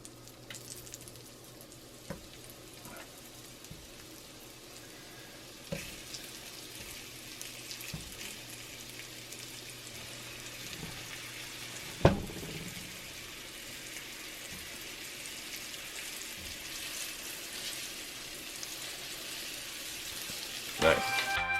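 Beef stew meat sears in a cast iron pan, giving a faint steady sizzle with a few soft clinks and scrapes, heard fairly quietly.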